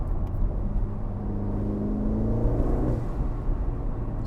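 An orange McLaren Artura, without its noisy exhaust fitted, pulls away at about 40 mph with a steady engine drone rising in pitch as it accelerates, heard from inside the car with no talking.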